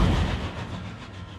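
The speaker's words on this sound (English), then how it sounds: "There's no mistaking that for the anything but a ghost train." Ghost train rolling past in the video game World of Final Fantasy, a loud rumbling rush of wheels and rail clatter that fades slightly as it goes.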